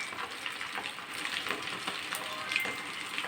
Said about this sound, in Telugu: ఆ వేడికే వేగిపోతాయి వెల్లిపాయలు, పచ్చిమిరపకాయలు, దాంట్లోనే కొద్దిగా ఇంగువ.